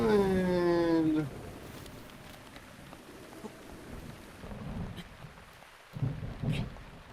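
Steady rain hisses through a stormy scene in the video game Breath of the Wild, broad and even, with a few louder gusts near the end, while a voice speaks briefly at the start.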